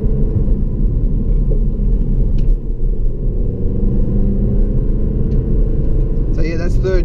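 A 2016 Holden Calais V Sportwagon VFII with an LS3 V8 pulls steadily in third gear under full throttle, its deep continuous engine rumble loud and close from inside the cabin, with a brief tone near the end.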